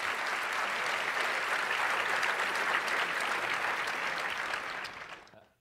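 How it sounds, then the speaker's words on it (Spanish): Audience applauding as in an assembly, a dense sustained burst of many hands clapping that fades out at the end, with no talk over it. "Aplauden como en la asamblea, ¿no?"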